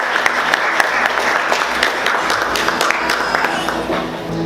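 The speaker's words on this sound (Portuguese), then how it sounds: "Vamos aplaudir o Senhor bem forte, amém, queridos?" A church congregation applauds during a worship service, many hands clapping at a brisk, uneven rhythm with a murmur of voices mixed in, fairly loud and sustained.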